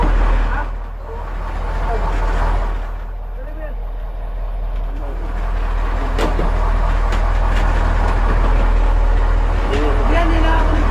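Boat generator engine running steadily with a loud low rumble throughout, on a fishing trip out at sea in the West Philippine Sea, with people talking over it.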